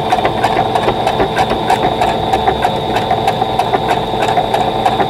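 A sewing machine stitching a vintage Dresden Plate quilt block, running at a steady fast mechanical chatter with an even rhythmic clatter, close and continuous without pause.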